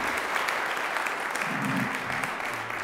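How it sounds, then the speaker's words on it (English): An audience claps for young performers at a Martin Luther King Jr. Day celebration, a short burst of dense, even applause filling the room. "Can we give them another round of applause?"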